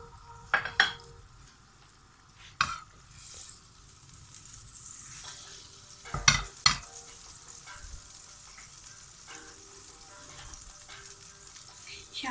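Butter sizzling in a pan before ostrich leg and mushrooms go in, a quiet steady frying hiss close by, broken by a few sharp clinks of utensil against pan.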